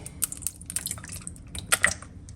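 Lemon juice dripping and splashing onto food in a home kitchen while a large dinner is prepared, with a few light wet drips and small squishy taps, near and fairly soft.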